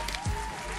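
A short burst of clapping from a small group in a radio talk-show studio, brief and fairly close, over a steady low background hum.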